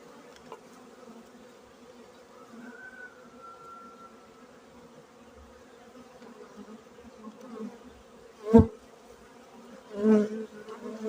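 Honeybees in Khmelnytskyi region on a winter cleansing flight in January make a steady, soft hum from many insects near the hives, with a couple of louder close buzzes as single bees pass by.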